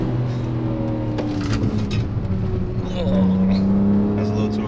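A tuned G82 BMW M4 revs and pulls hard from inside the cabin, the engine note climbing and swelling loudly near the end while people talk briefly over it.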